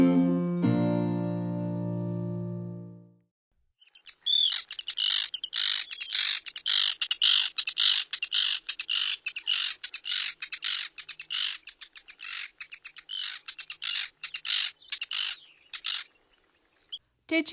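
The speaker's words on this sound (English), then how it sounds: "This week's bird is an Arctic tern." An Arctic tern calling repeatedly in rapid, harsh, chattering bursts, sustained and fairly close, with no voices over it.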